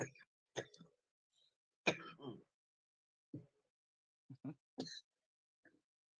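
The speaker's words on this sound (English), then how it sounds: "Sorry, I didn't mean to cough in your guys' ear." A few short, harsh coughs and throat-clearing bursts, close and fairly quiet, separated by pauses with near silence between them.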